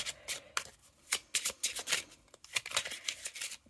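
Oracle cards with matte gold edges are shuffled by hand in close, crisp riffling bursts that come in quick irregular waves, with short pauses between them and no talking.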